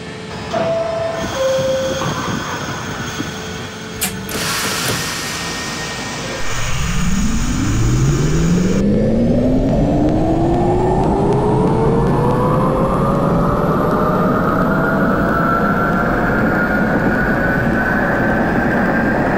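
NYC Subway R68 train in the OpenBVE simulator, its traction motors howling with a loud rising whine that climbs steadily in pitch as the train accelerates, continuous and close, following quieter cab noise and a brief beep.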